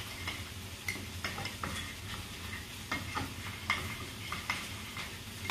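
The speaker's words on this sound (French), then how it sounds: "je vais attendre que le chou soit bien revenu" Cabbage sautéing in a pan with cream sauce, a soft bubbling sizzle broken by repeated clinks and scrapes of a utensil stirring against the pan, fairly quiet and with no voices.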